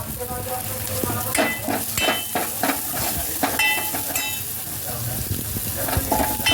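Garam masala and sambar masala fry in a hot pan with moong dal for sambar. A steady sizzle runs under repeated scraping stirs of a spoon, heard close.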